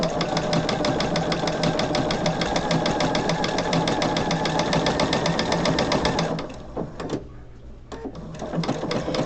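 A sewing machine stitches fabric with a steady fast mechanical rattle close by for several seconds, then stops, leaving a few faint clicks.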